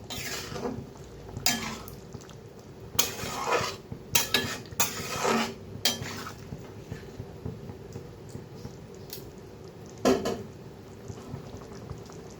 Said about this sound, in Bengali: তাহলে আলুগুলো ছেড়ে দিই। একটু ভালোভাবে নেড়ে নিই।